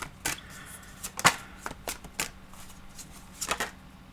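Tarot cards shuffled by hand in a series of crisp riffling bursts spread across the moment, close and fairly quiet, with a steady low hum beneath.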